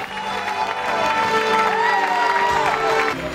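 Large Catalan crowd cheering and applauding at the UTMB ultra-trail podium, a sustained dense roar of voices and clapping with whoops rising over it throughout.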